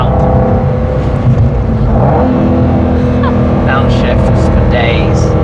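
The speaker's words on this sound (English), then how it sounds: "Downshifts for days." Aston Martin GT8 V8 downshifting on an uphill mountain road, loud in-car engine roar with short rev blips and pitch changes between gears, faint talking mixed underneath.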